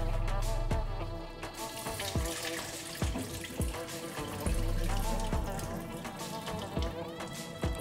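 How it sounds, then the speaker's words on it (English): Cooking water from pressure-cooked red beans pours out into a sink in a steady splashing stream, with irregular metallic clinks and knocks from the pot punctuating the flow throughout. "I'm going to remove all this water from the"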